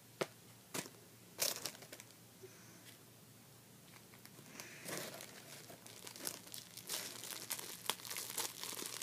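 Plastic wrapping around a squishy toy package crinkles and tears in sharp bursts, close to the microphone, with irregular rustling that grows busier toward the end and no talking over it.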